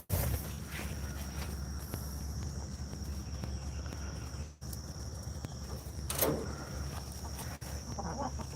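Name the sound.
chickens clucking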